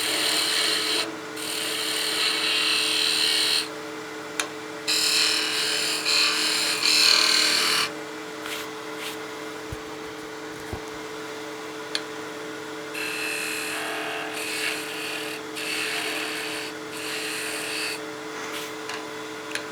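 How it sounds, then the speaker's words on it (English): A skew chisel takes peel cuts on a spinning wooden top turning on a lathe, giving a steady motor hum under bursts of scraping, shaving cuts that start and stop, close and moderately loud. "Just some peel cuts with the skew, then we'll go to that planing cut."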